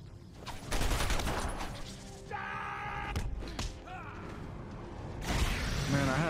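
Bursts of gunfire in the Batman Arkham Asylum video game, loud rattling volleys mixed with mechanical clanks and whooshing effects, with a brief faint voice in between.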